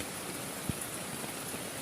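Heavy rain pours steadily at night around a riverside campsite, a dense, even hiss that fills the whole stretch, with one brief louder knock partway through and no voices.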